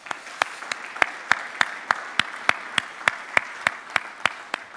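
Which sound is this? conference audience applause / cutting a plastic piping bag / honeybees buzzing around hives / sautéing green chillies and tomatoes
conference audience applause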